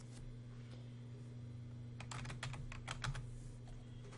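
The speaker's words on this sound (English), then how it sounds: "I'm just going to go ahead and type in Texas." Keys clatter on a computer keyboard as a search is typed, a quick burst of close, crisp taps over a steady low hum, with no talking.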